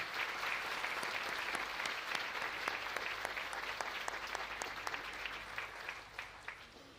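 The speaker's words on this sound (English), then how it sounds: "Give them a round of applause." The crowd at The Webb School's 154th graduation ceremony in 2024 gives the Board of Trustees sustained, even applause from a large hall, steady and fairly distant, tapering slightly toward the end.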